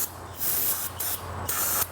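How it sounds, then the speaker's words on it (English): Brake cleaner sprayed in several short hissing bursts around the belt area of a Vespa ET/LX scooter, close and loud, each burst about a third to half a second with brief pauses between. "the good thing about this spray brake cleaner is it takes the dust with it"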